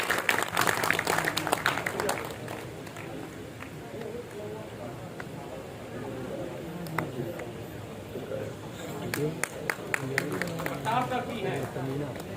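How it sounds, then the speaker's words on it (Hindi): Audience at a memorial gathering clapping to welcome a guest to the stage, bursts of applause rising and falling beneath someone speaking over a microphone. "तालियां बजा करके कृपया स्वागत कीजिए तायरा हसन साहिबा का।"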